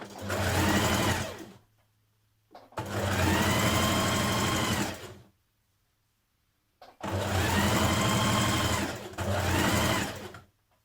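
Sewing machine top stitching around a jacket collar in four close, loud bursts of fast whirring stitching, each lasting about two seconds and separated by brief quiet pauses.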